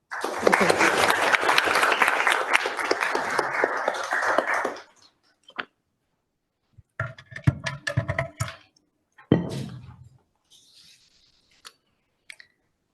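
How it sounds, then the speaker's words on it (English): An audience at a summer school session claps for an incoming speaker, a dense burst of applause lasting about five seconds that stops abruptly, followed by scattered faint taps and small noises. "A round of applause, please."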